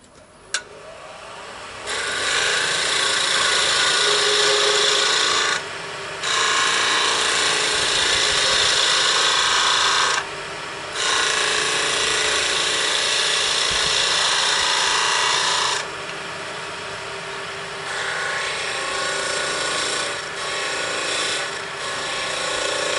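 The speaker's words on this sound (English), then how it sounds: "I'm going to smooth off another piece with a cutting tool, a tool that actually cuts the wood" A skew chisel shaves wood on a spinning lathe, giving long, loud, steady rasping hiss passes broken by short pauses as the tool lifts off and returns to the workpiece.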